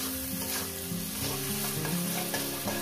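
Water spinach with prawns frying in a pan after salt goes in, giving a loud, dense, unbroken sizzle close by with stirring, over a steady tonal melody in the background.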